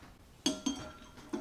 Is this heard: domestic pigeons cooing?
no